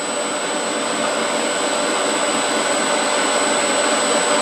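A metal lathe turns a tea kettle whistle part while the compound slide feeds the cut, giving a steady, loud machine hum with a thin high whine that holds throughout and has no voices over it.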